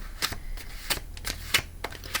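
Tarot cards being shuffled by hand, a series of short crisp riffles and taps at an uneven rhythm, close and fairly quiet with no talking.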